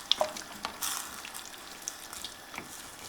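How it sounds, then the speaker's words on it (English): Spoon stirring tomato and basil soup in a pot, made with vegan butter, with a few light scrapes and knocks over a soft sizzle, close and fairly quiet. "Give it a good stir."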